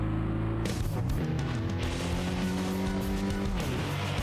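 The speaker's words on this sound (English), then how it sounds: "Now I wonder if the car is going to sound different" A racing car engine revs and drones up through its gears in the video game TXR 2025, with a brief tire squeal, loud and close like in-game vehicle audio.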